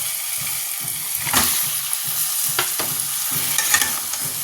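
Chicken pieces are stirred and sautéed in hot oil with spices and tomato, giving a continuous close sizzle broken by a few scraping stir strokes; no talking.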